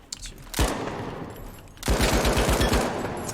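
Gunfire in The Finals, aimed at a fire throwable: one loud shot, then after a pause a rapid burst of close, punchy automatic shots.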